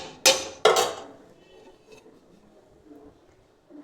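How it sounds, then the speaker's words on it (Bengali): A metal lid lifted off a pot of spinach cooking: two sharp clanks close together near the start, then quiet kitchen background with faint rattles. "দেখুন ঢাকাটা খুলে দিচ্ছি।"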